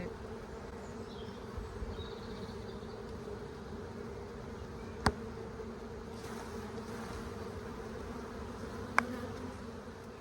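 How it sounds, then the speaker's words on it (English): Steady, dense buzzing of many honeybees close by during a hive inspection as bees are shaken off a frame, a continuous low drone with two sharp clicks partway through. "I'm just going to shake these bees off"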